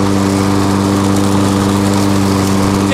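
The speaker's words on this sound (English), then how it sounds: "It takes real talent to mow with a selfie stick, let me tell you." A new lawn mower runs steadily and loudly close by, its engine hum carrying strong low harmonics as it cuts grass, with no voices.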